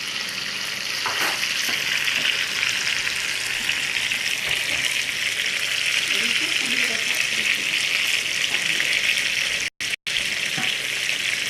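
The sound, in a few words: chicken browning in a frying pan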